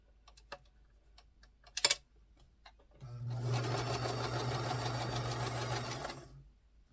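A sewing machine stitches small 1.5-inch quilt squares into nine-patch blocks, a steady fast mechanical whir lasting about three seconds after a few light clicks and taps.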